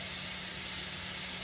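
Stir-fry ingredients sizzle steadily in a hot pan as they are mixed, a close, continuous hiss with no pauses or voices.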